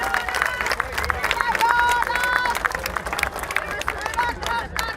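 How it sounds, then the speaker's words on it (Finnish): Spectators applaud at an outdoor crosskart award ceremony, with steady scattered clapping mixed with crowd chatter and bright whistle-like tones. "Valtavat aplodit"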